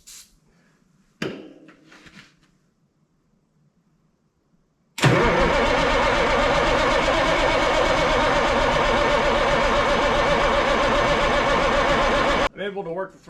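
A Ford cabover truck engine, dosed with starting fluid, bursts into a loud steady cranking roar that runs for about eight seconds and then cuts off, after some quiet shuffling and a brief voice.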